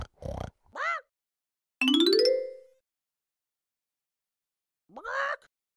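Pig oinks and grunts come in a few short, separate bursts, with a longer, higher squealing call in the middle and quiet gaps between them.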